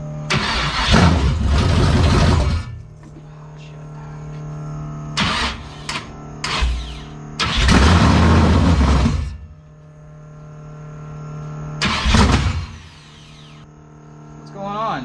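Engine of a car being cranked and fired off repeatedly, catching briefly, running a few seconds, then dying each time, with short bursts of starter cranking between longer roaring attempts; people talk in between.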